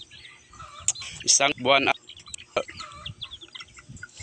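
Backyard chicks around fifty days old with their mother hen, giving scattered clucks and peeps close by under Filipino speech, with a louder burst of calls near the start.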